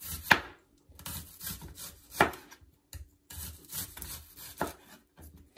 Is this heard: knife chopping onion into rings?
yes